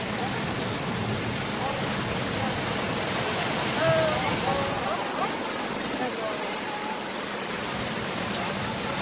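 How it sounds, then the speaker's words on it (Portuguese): Floodwater rushes continuously after heavy rains in Teresina, a dense, loud, unbroken roar like a torrent, with faint voices now and then beneath it. "A força da água, ó."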